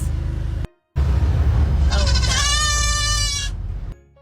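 A goat riding in a vehicle on a short farm trip lets out a loud, close, wavering bleat over the steady rumble of the car, after a brief cut in the sound.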